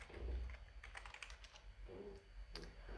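Typing on a computer keyboard, a quiet run of quick, irregular key clicks with brief pauses, close by and without talk.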